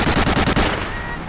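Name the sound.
gunfire in video game Medal of Honor: Allied Assault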